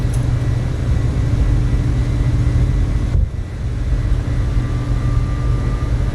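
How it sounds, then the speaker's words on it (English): A cargo airliner climbs out after takeoff in Microsoft Flight Simulator, giving a loud, steady engine roar with one brief dip about halfway through. "Positive climb, gears coming up."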